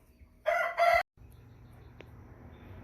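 An American Bresse rooster about six weeks old crows once, a loud close two-part call lasting about half a second, then cuts off abruptly, leaving quiet ambient background and a faint click.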